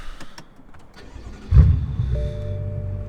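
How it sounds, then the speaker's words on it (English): A few clicks, then a tuned BMW F10 M5 engine cranks and catches, settling into a steady low idle rumble with a faint whine. "All right, we're gonna go ahead and turn on the car."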